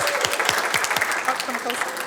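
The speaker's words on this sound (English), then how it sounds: "let's give the 3 of them a round of applause." Applause at a Relay for Life kickoff event at Westland City Hall, a dense, close wash of clapping from a room of people, with a few scattered voices and cheers mixed into the steady applause.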